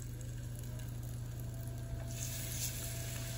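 Garlic simmering in olive oil in a pan, a soft steady sizzle with faint crackles running throughout, fairly quiet and close with no talking.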